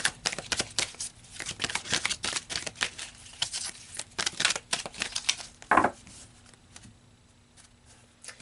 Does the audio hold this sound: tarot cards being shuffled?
yes